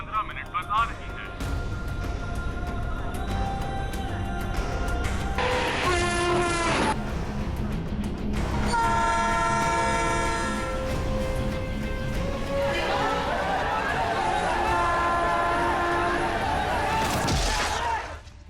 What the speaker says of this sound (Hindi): क्रांतिपुर एक्सप्रेस ओखला स्टेशन पर 11:15 पर आ रही है